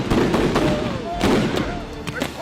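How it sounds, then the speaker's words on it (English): Rubber bullet shots crack out on a street during a clash, several sharp reports spaced through a noisy, close scene with commotion and talk around them. "Joe Biggs got shot with a rubber bullet"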